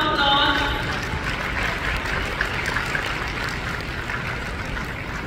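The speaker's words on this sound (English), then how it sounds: "Ladies and gentlemen, may we please have a huge round of applause" An audience claps at a university convocation ceremony, a sustained wash of many hands that swells briefly as a voice speaks over the start, then continues evenly at moderate distance.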